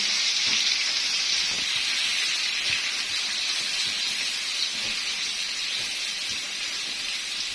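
Chopped onion frying lightly in a little oil, a steady, even sizzle and hiss that holds close and constant without pause, with no talking over it.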